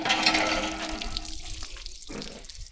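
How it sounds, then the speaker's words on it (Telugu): Water pouring steadily from a hand pump on a hillside in a village, a continuous close splashing rush that thins out toward the end; no speech. "నీళ్ళు వస్తున్నాయి"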